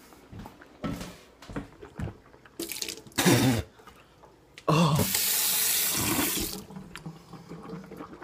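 Tap water splashing into a sink as someone rinses their mouth, with short spurts early on and then a steady loud gush of running water, mixed with faint handling clatter.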